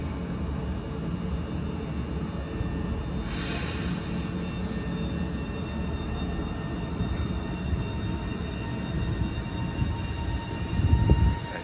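A Class 397 passenger train departs Deansgate station toward Manchester Oxford Road, giving a steady rolling rumble and wheel noise throughout, with a brief high whine partway and a heavier thump near the end.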